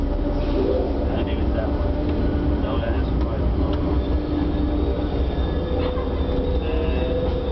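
Amtrak's Southwest Chief pulls into Chicago Union Station with a steady, loud rumble of rail cars and wheels that fills the whole stretch, with faint squeals and clanks on top and voices murmuring in the background.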